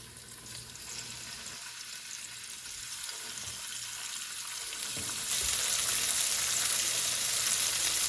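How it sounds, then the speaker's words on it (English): Boneless chicken breasts sear in a hot pan, making a steady, broad sizzle that grows louder and hissier partway through and continues without a break, with no talking. "Yeah, it's getting a little sizzle there."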